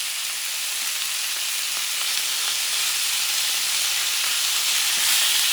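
Beef chorizo frying in a pan, a loud steady sizzle with bright hissing crackle that swells slightly toward the end, with no talk.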